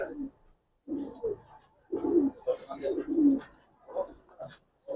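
A female Giribaz pigeon in a loft coos close by in repeated throaty, rolling phrases separated by brief pauses.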